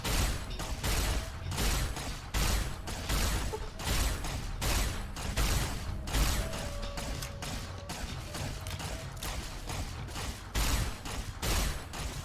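Rapid gunfire in Fallout: New Vegas rings out as a long run of sharp, repeated shots in irregular bursts, loud and close, continuing for about twelve seconds with mechanical clatter between them.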